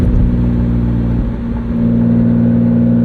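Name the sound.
Rolls-Royce Wraith car engine revving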